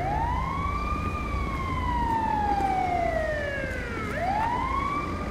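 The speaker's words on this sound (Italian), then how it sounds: "Ok, ne arriva pure un'altra di ambulanza. Stanno arrivando due ambulanze." Ambulance sirens in the GTA 5 police mod, loud wailing tones that sweep up and down over a steady road rumble, with a second siren rising in near the end and no voices.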